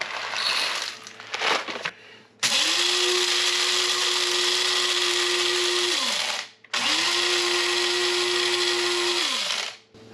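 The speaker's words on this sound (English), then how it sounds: "we have whole bean coffee that we put in our coffee grinder" An electric coffee grinder grinds whole bean coffee in a van powered by a portable battery station, two loud sustained whirring bursts with a steady motor whine, separated by a brief pause, after some faint handling noise.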